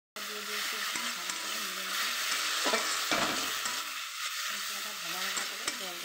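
Spice paste frying in a pan after cashew and raisin paste is added, a soft continuous sizzle with scraping stirs, while someone talks quietly over it.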